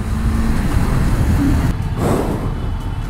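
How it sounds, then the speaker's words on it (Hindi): Heavy road traffic on the Maa flyover in Kolkata makes a constant, loud low rumble of engines close by, with no pause and no talking. "बहुत ज़्यादा ट्रैफिक है गाइस"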